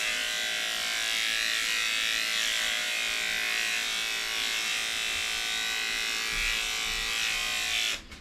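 Electric dog grooming clippers buzz steadily and loudly on a Cavoodle puppy's curly coat, a continuous close-up motor whine holding for about eight seconds before cutting off abruptly at the end.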